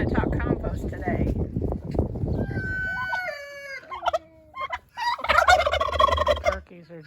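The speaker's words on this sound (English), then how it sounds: "Turkeys are just kind of driving me a little crazy." On a homestead, turkeys gobble loudly in rapid warbling bursts near the end, after a stretch of talking and a few scattered bird calls.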